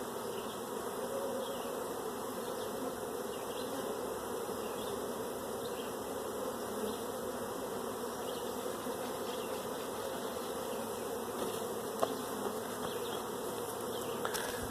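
Honey bees swarm around an open hive during a mite check, a steady, dense buzzing drone that holds evenly throughout with no talking.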